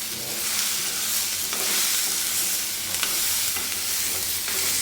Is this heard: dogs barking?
no